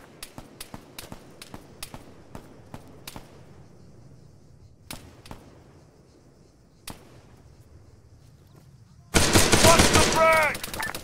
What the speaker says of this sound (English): Dimitriero, engage that machine gunner.